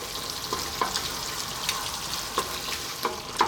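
King prawns fry in a pan under a soft, continuous sizzle, punctuated by sharp clicks and taps of a utensil as they are stirred every half second or so; quiet overall, with no talking.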